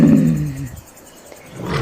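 A tiger's roar, loud and close, rumbles low at the start, fades into a quieter stretch, then swells again at the end, with no talking.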